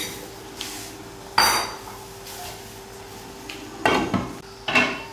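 A spoon clanks against a cooking pot as beaten eggs are stirred into potato curry, giving a few sharp metallic knocks spaced apart over a quiet background.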